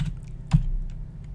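Soft clicking of typing on a computer keyboard during live coding, a few light key taps with one sharper press, quiet and close over faint room hum.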